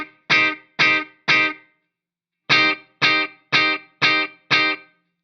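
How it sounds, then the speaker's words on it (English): Eventide H9 delay effect producing rhythmic repeating taps: a group of three bursts, a pause, then five more evenly spaced, bright distorted guitar-like repeats, loud and alone. "you can hear that that just gives you 4 extra delay taps"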